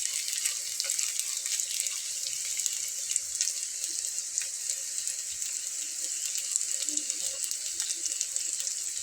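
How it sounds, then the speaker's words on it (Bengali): Cauliflower kebabs fry in oil with a constant bright, dense sizzle and crackle, steady and close throughout with no talk. "দেখুন আমি ভেজে নিচ্ছি বন্ধুরা"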